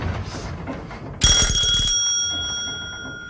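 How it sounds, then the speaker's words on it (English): A single sharp bell strikes loudly and close, a metallic clang that rings on and slowly fades over a couple of seconds above a quiet room background. "When the bell goes..."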